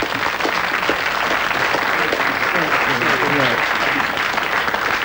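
A crowd applauds steadily for a prize-winning contestant on a game show, the dense clapping continuing throughout with a voice speaking faintly underneath partway through.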